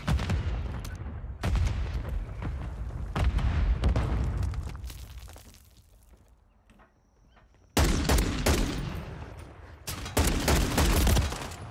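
Desert Eagle pistol fire in a first-person shooter game, loud booming shots in rapid clusters that break off into a brief lull before a fresh volley resumes, with no talking.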